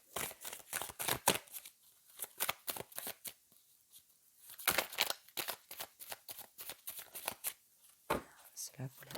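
Oracle cards from a mirror-themed deck being shuffled and drawn, crisp riffling bursts and slaps in quick irregular clusters, close and clear, with a short pause midway before the shuffling resumes.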